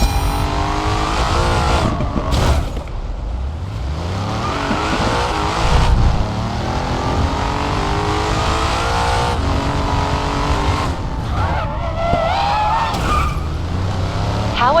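Race cars in a racing video game set in Chicago, engines revving and shifting through rising and falling roars, with tires squealing on the turns, loud and continuous with no voices.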